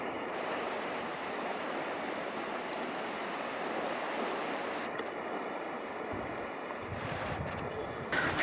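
Powerful open-flowing river water in winter, a loud, continuous rushing roar with some wind buffeting on the microphone, no voices.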